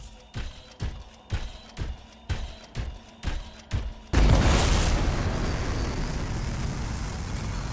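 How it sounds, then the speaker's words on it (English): Canisters blow up in the video game Anthem: a run of eight sharp rhythmic pops or bangs, then one loud explosion that trails into a sustained roaring rumble. "It'll be a contained explosion."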